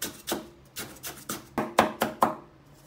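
Garlic being chopped with a cleaver on a cutting board, about eight quick, even knife strikes in a steady rhythm, close and fairly loud, with no talk.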